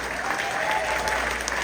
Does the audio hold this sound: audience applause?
yes